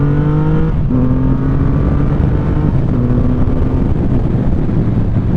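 A 2020 Triumph Rocket 3 GT motorcycle accelerates hard in second gear, its engine note climbing in pitch with a gear change midway, loud and close under a constant roar of wind.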